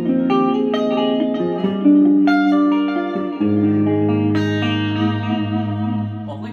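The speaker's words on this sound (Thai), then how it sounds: "อันแรกครับเป็นเสียงคลีน" Electric guitar in a clean tone through a Boss ME-70 multi-effects unit and a Laney amp plays sustained chords and single notes that ring out one after another, loud and alone.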